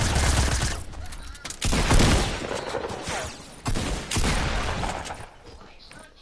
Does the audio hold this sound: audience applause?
no